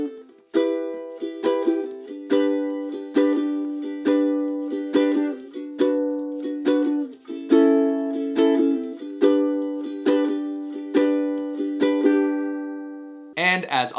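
Steady ukulele strumming through the chord sequence of a song, bright repeated strums in an even rhythm, close and clear with no voice over it.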